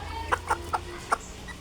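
A hen held in the hands lets out four quick, sharp clucks close by, spaced unevenly over barely more than a second against a quiet background.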